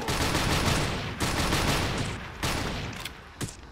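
Rapid, loud fully automatic blasts from an AA-12 shotgun in a first-person shooter, several sustained bursts of booming shots separated by short gaps, ending in a few isolated rounds.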